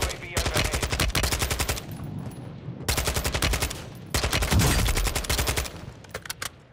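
Rapid automatic gunfire from a firefight in the video game Warzone, loud bursts of sustained shots broken by short pauses, with little else over it.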